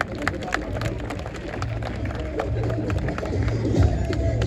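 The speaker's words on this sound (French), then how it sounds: "Sur vos applaudissements, s'il vous plaît, le public" Crowd at a student football match between Moroccan and Senegalese students claps and cheers, a dense, steady wash of applause with background babble and voices throughout.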